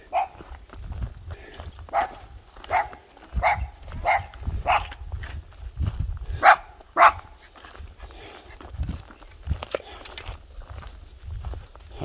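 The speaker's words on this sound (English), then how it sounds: "There's the guard dog." A guard dog at an off-grid cabin property barks repeatedly at a medium distance, sharp woofs in irregular bursts over about seven seconds, with footsteps crunching along underneath and no talk.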